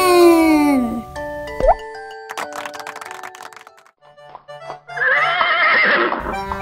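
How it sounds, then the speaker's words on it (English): A horse neighs loudly near the start, a clear descending whinny, followed by plops, light clip-clop, and cartoonish effects in a children's counting and colors setting. "It's the horse, the orange horse."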